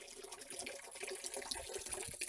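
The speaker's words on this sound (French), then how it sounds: "Là, je mouille le mur et les plaquettes d'angle pour parement mural" Water splashes and trickles over a masonry wall and corner facing tiles being wetted before tiling, a faint, continuous patter with small irregular drips and no voices.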